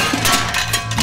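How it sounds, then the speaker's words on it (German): A cooking pot is banged in a loud metallic clatter near a tent at a camp, with two short, harsh bursts about half a second apart and a steady rumble underneath. "Plötzlich ertönte ein lautes Geschepper."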